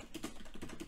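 Soft, rapid keystrokes tap on a computer keyboard, a brief quiet burst of several clicks in quick succession.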